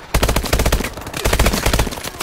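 Rapid automatic IMR gunfire in a video game gun game, two loud sustained bursts of closely spaced shots separated by a brief gap.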